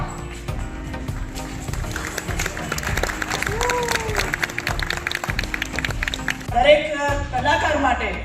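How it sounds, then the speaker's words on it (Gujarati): Applause fills the hall at a Gujarati drama show as an audience claps steadily and loudly in a dense, continuous patter. Someone talks over the clapping and is heard clearly throughout. "એકવાર જોરદાર તાળીયા થઈ છે"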